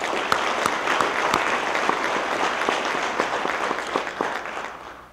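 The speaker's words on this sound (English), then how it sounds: "Please give them another round of applause." An audience at the Long Beach College Promise fourth anniversary celebration applauds, a steady wash of clapping with a few distinct nearby claps standing out, tapering slightly at the end.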